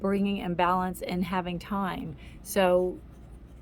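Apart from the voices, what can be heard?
No everyday noise stands out behind the speech.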